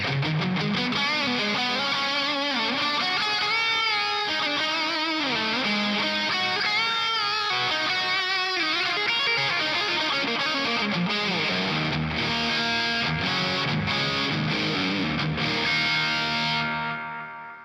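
Electric guitar played through a 1987 distortion pedal with delay, giving saturated glam-rock chords and lead lines with echoing repeats that trail off at the end, loud and continuous.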